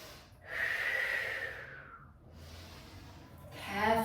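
A deep breath drawn in through the nose during a leg and glute workout, a close, breathy rush lasting about a second, followed by a quieter exhale and another breath starting.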